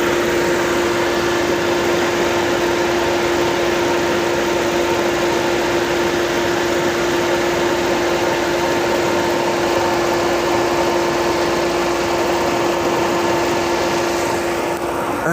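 The radiator cooling fan of a Fiat Uno runs with the engine on, giving a steady, loud, continuous whir and hum that holds unchanged for about fifteen seconds with no talk.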